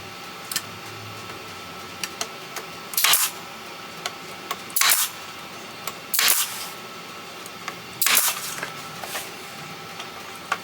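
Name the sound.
brad nailer firing 1.25 inch nails into wood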